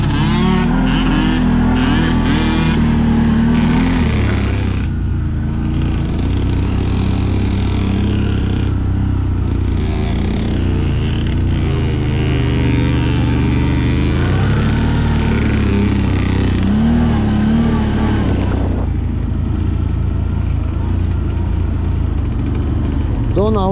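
A quad bike engine on a dirt track roars and revs continuously, loud and close, rising and falling in pitch, with voices talking over it.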